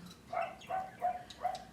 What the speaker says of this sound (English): oh, now he's going to bark outside.